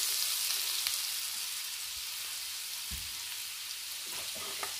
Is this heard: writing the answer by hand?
no